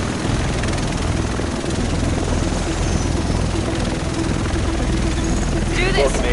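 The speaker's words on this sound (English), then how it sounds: "The rest of us should be in this chopper." A helicopter in a PS4 video game, its rotor and engine a steady loud thrum throughout, with people talking over it.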